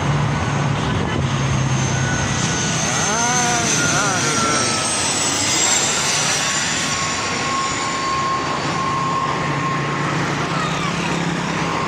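A PIA ATR turboprop airliner lands at Karachi airport on a flight from Gwadar, its loud, steady engine drone and propeller roar filling the cabin continuously, with a voice speaking briefly over it.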